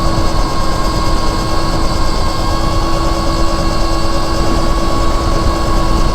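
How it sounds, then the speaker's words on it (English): An Anyland Rev Pro auto-wheelie dirt bike is ridden in wheelies at around 30 miles an hour near its top speed, giving a loud, constant whine over heavy rushing wind noise, steady throughout with no talk. "I'm doing these wheelies going like 30 plus miles an hour, up near the top speed of this bike."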